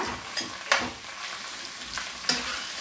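Onions, green chillies and curry leaves sizzle steadily in hot sesame oil while a spoon scrapes and stirs the pan a few times. The sound stays close and continuous, with no talking.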